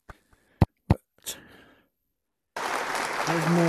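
Crowd applause in a Meta Quest 3 VR game swells in abruptly as a dense, steady clapping wash for just over a second, after a few sharp clicks and a short stretch of near silence.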